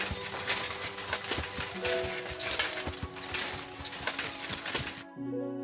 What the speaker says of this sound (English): Lovely horses you have here.